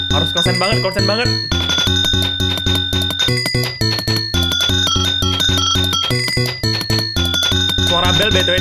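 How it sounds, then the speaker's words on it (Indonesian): Bell sounds in the Friday Night Funkin rhythm game, bright repeated rings over loud, pulsing game music with a steady beat. "Suara bel btw nih guys ya."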